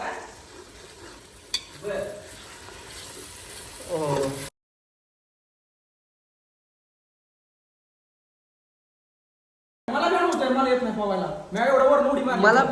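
Tomato, ginger, garlic and grated coconut sizzling and being stirred in a pan at a Kolhapur farmhouse, a steady frying hiss under people talking, broken by a long silent gap partway through.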